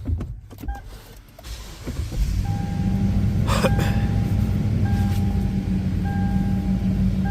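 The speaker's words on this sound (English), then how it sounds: "So let's get the car going." A 200 LX engine cranks briefly from a cold start and catches, then settles into a steady, loud idling rumble while a thin electronic tone beeps intermittently.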